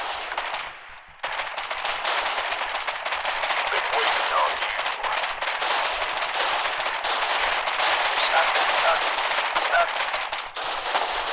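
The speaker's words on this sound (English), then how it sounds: "Colonials firing into the ports, into some of the holes in the walls where the Wardens were meant to fire out of." Sustained small-arms and machine-gun fire in the online war game Foxhole, with dense overlapping bursts at a fort wall's firing ports, after a brief quieter lull at the start and a short dip near the end.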